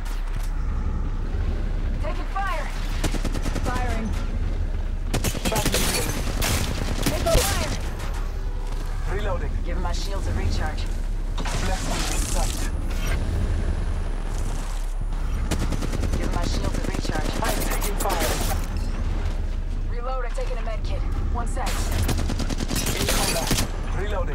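Gunfire in the mobile battle royale game Apex Legends Mobile: dense, sustained bursts of rapid automatic shots with heavy booming impacts, loud and nearly continuous, with brief lulls between volleys.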